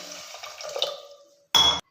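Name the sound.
more water poured into a pressure cooker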